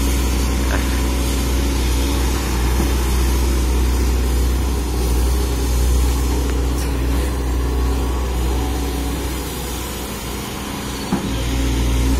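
SANY SY215C excavator with a Mitsubishi 4M40 four-cylinder diesel engine running steadily at idle, a continuous low rumble with a constant drone throughout, heard close and alone.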